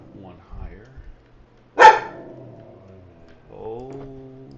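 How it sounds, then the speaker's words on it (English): A pet dog named Poyo gives a single sharp bark, loud and close, between stretches of quiet speech from people nearby. "Poyo, what are you barking at"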